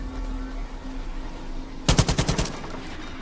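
Loud burst of automatic gunfire in Far Cry 5, about six rapid shots in a tight rhythm lasting under a second, standing out against a low ambient game drone.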